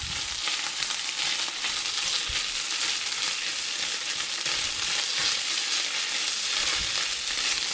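Steady, loud sizzling of eggplant omelette mixture with tomato paste frying in a pan, a dense crackling hiss that continues without pause throughout.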